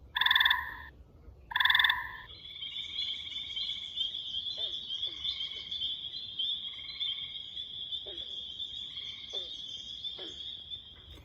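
Green frogs and gray tree frogs calling on a farm pond: two loud bursts of trilling open, then a steady high trill runs throughout with scattered banjo-like plunks mixed in.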